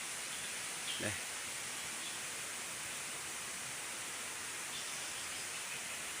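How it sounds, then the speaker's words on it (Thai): Steady rain falls in a forest, making a continuous, even hiss that fills the whole stretch, with a brief faint knock near the start and no clear voices over it. "แล้วดูฝนตก"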